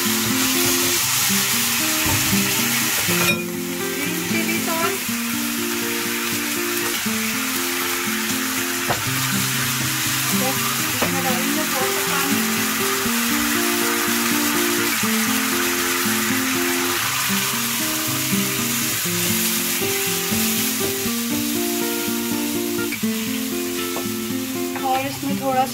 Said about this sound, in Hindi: गार्लिक, थोड़ा सा जिंजर, हल्का सा भून लूंगी और फिर मैं डालूंगी इसमें सॉस, टोमेटो सॉस डालेंगे, थोड़ी सी सोया सॉस